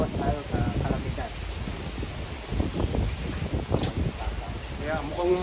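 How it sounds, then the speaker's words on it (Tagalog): Strong wind gusting across an open farm, a rushing, rustling roar buffeting the microphone at moderate level, with brief indistinct voices mixed in. "Kaya mukhang malakas ang hangin ah."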